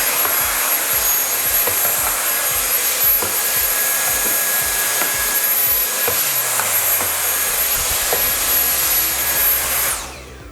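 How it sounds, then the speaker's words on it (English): A cordless Dyson stick vacuum runs with a high steady whine and airy roar, close and continuous, with faint knocks underneath before it cuts off. "Got my Dyson vacuum."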